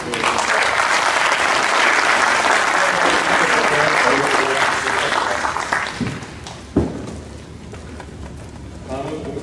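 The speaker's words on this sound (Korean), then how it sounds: "시상자께 다시 한번 큰 박수를 부탁드립니다" An audience at a company new-year ceremony applauds award recipients in a loud, dense burst that thins out after about six seconds, leaving scattered claps and a speaking voice.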